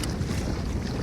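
A powerful boat motor runs on open water in a north wind, a brief, close, steady rumble mixed with wind buffeting the microphone and splashing waves, with no talking.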